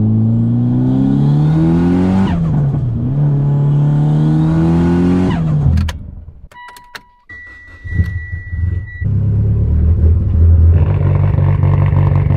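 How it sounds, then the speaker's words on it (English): A Mitsubishi Evo 8 engine revving hard, with loud rising and falling pitch sweeps through the gears, a short gap with faint clicks and beeps, then the engine returns at a steady drone. "Let's go for a rip in the Evo 8"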